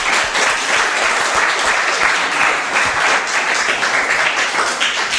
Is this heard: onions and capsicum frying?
no